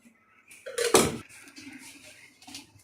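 Kadhi pakora is dished out into a serving dish with a brief clatter of a ladle against the dish, one loud knock followed by soft scraping and a small clink, close by.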